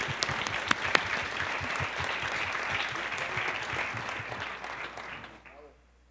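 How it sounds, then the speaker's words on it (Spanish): Audience applause at a panel discussion on children's and adolescents' voices, a dense steady clatter of many hands that runs for about five seconds, then tapers off and stops. "Y también les pido un aplauso para que se nos quiten los nervios."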